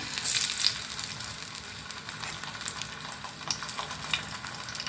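Eggplant slices shallow-fry in very little oil on a tava, a steady crackling sizzle with bright spitting pops throughout.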